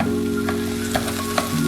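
A spoon mashes tomato chutney in a pan over sizzling, frying heat, with a few soft scraping clicks over a steady hum and no talking.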